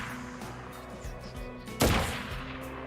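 Gunfire in Crisis Core Final Fantasy VII Reunion: a sharp, loud shot bursts out over a steady bed of game music and ambience, with softer thuds before it.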